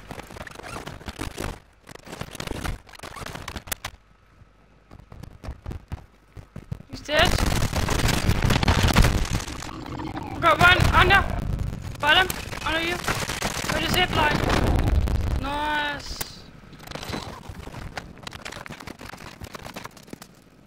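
Gunfire in Call of Duty Warzone 2.0, with scattered single shots giving way to dense bursts of automatic fire and blasts, loud and close, under occasional speech.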